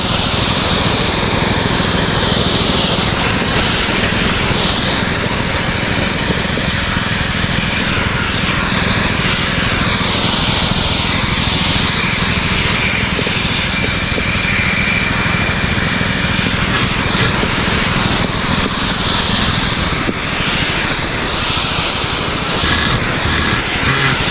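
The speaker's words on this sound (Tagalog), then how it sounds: "Dalawa kami nag-i-spray. Dalawang makina gamit natin para mabilis." Two engine-powered crop sprayers run together in a Philippine rice field, a loud, steady, high-pitched motor drone with hissing spray that continues unbroken and close throughout.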